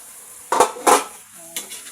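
A metal utensil scrapes and clatters against a pot of chicken curry in two quick strokes, then a lighter clink, with a soft sizzle of chicken in its own fat underneath.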